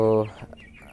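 A single short, harmonic cluck from a 22-day-old broiler chicken nearby inside a poultry farm, followed by faint scattered bird noises.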